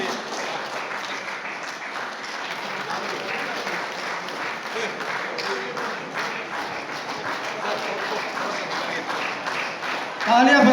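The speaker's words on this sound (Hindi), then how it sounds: "तालियां बजते रहना चाहिए।" Loud, sustained applause from an audience at a trade union federation gathering in Pasighat, Arunachal Pradesh, a dense even roar of many hands clapping nonstop, with a brief sharper burst near the end.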